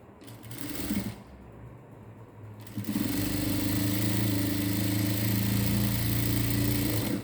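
A sewing machine stitches a blouse piece, a short burst at first, then a steady, close, continuous whirring run through the second half with no talk.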